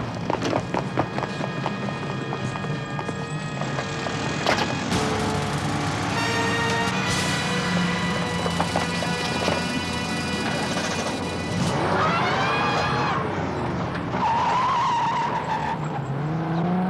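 Car chase with tires skidding and squealing, engines revving and a crash-like impact, continuous and loud over the whole stretch with dense layered mechanical noise.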